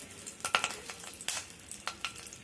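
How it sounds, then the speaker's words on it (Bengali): Spices and green chilli fry in a pan, giving a soft close crackle and sizzle broken by a few quick stirring scrapes. "তো মশলাগুলো একটু ভাজা ভাজা হবে"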